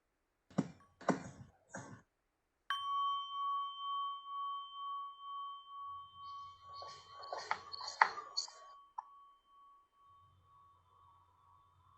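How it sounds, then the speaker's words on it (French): A single meditation bell is struck once at a mindfulness gathering, ringing out clear and loud after brief talk, then sustaining a long, slowly fading tone while soft murmurs and movement rise faintly beneath it. "Un petit son de cloche pour le plaisir"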